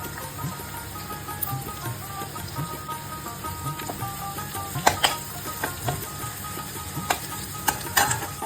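Potato, onion and chopped garlic frying in hot oil for a Bengali morola fish chorchori, a steady close sizzle with stirring scrapes and a few sharp clicks throughout, no talking.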